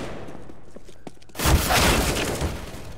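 Burst of gunfire in CS:GO, a sudden loud volley after quieter scattered clicks and thuds, with sharp shots ringing close.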